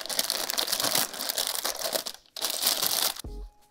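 Melted plastic bags pressed and squished under baking paper, a dense crinkling and crunching that runs almost continuously, broken by a short pause, then ending with a low thump and quieter rustle.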